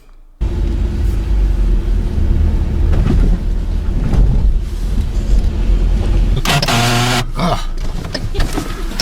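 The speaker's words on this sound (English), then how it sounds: "car makes a rather interesting noise" A car engine in Syria rumbles steadily, then a harsh, buzzing whine with a rising pitch cuts in near the end, loud and close.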